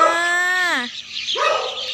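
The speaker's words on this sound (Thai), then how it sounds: "นี่คือน้องหมาค่ะ" A fluffy puppy gives a close, loud whining yelp that slides downward, followed a moment later by a second short bark, with no one talking.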